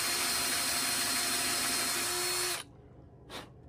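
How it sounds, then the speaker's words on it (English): A power drill bores a hole into a wooden walking stick, a loud steady whine that cuts off near the end, followed by a short burst of the motor spinning again. "And then right here, we're gonna drill that right on in there."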